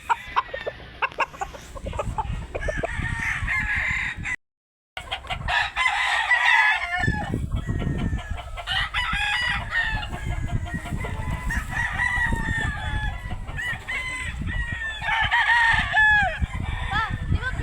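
Chickens cluck and roosters crow repeatedly close by, several overlapping calls with rustling and handling noise and occasional talk.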